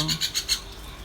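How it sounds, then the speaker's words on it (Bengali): Myna bird on a balcony on a rainy afternoon, giving about four quick, raspy chirps in a row, fairly close, then a quiet pause with no talking. "শালিক পাখি এসেছে।"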